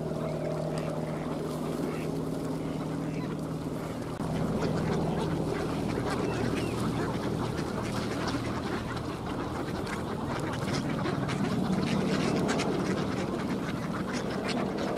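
Ducks quack in a wintry, frosty park at Tsarskoye Selo, a busy flock calling over steady wind or water noise, with a long low hum in the first few seconds.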